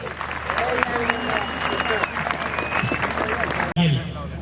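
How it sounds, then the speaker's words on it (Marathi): Crowd applause and clapping at a wrestling match between Sikandar Shaikh and Prithviraj Patil at Jejuri, a steady wash of noise from a large audience mixed with speech, broken by a brief cut near the end. "टाळ्या पाहिजे द्या"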